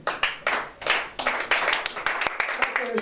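A congregation claps together in praise during a French-language worship service, with bursts of hand claps in an uneven rhythm, close and fairly loud, mixed with singing or voices.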